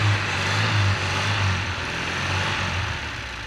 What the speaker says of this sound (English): Yeah, it's idling.